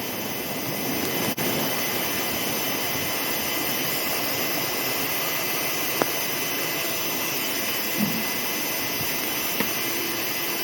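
Steady, loud roaring rush of a blower feeding air into a dirt box forge, a continuous, unchanging drone with a few faint knocks, no voices.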